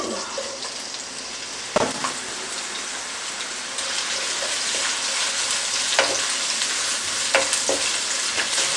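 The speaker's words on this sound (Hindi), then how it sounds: "एक मिनट के लिए मैंने प्याज को फ्राई किया है" Sliced onion frying in hot oil for an Afghani beef pulao, a dense continuous sizzle with a few sharp spatula scrapes and clinks, close and fairly loud.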